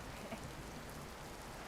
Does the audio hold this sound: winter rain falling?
yes